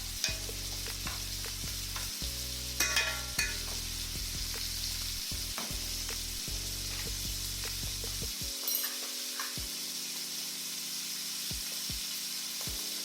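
Shrimp sizzling in a large cast iron pan, a loud continuous hiss with repeated clattering taps and scrapes as they are moved about, over a low steady hum that cuts out in places.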